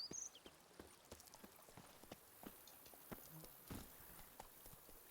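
Roach the horse gallops in The Witcher 3, quick hoof clip-clops striking a steady rhythm, faint and a little distant against a soft rainy background.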